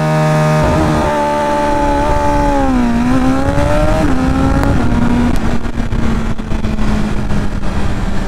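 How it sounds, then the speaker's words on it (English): A 2022 BMW M1000RR superbike on launch control at full throttle, loud and close, holds a high steady rev, then winds up and surges away. The engine note climbs and drops across quick shifts before settling into a sustained hard drone as it pulls away. "Then you give full throttle and slowly release the clutch."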